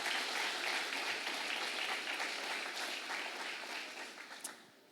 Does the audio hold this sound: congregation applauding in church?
yes